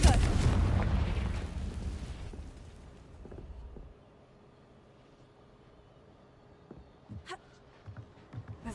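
Confringo fire spell explosions in the Hogwarts Legacy video game: a loud booming blast that rolls and fades over a few seconds, followed by quieter scattered pops and crackles.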